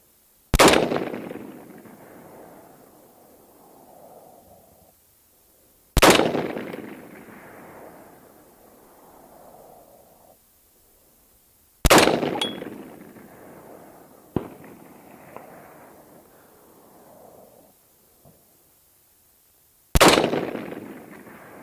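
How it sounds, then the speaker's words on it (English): A rifle fires rounds of M855 ammunition at a target outdoors, five sharp, loud single shots spaced several seconds apart, each followed by a long rolling echo and decay, with a faint extra crack between two of them. "Let's heat this thing back up. Five more rounds of M855."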